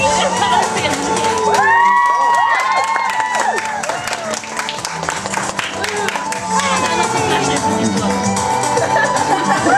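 An audience at a cosplay show in an SF bookshop claps and cheers loudly, with whoops and high shouts rising over sustained applause that fills the whole stretch.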